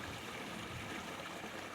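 Clear natural mountain stream water flowing down from the hills at a hidden waterfall near Karachi, a steady close rushing and splashing with no pauses and no voices.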